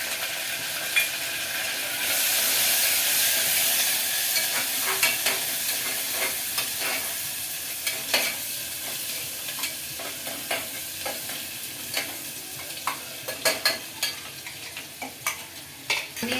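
Onions and curry leaves frying in hot oil, a steady sizzle with a spoon scraping and clinking in the pan in irregular taps, close and moderately loud, no voices.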